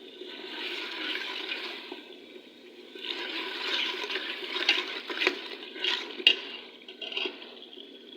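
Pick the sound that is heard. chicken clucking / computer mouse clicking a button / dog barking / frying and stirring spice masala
frying and stirring spice masala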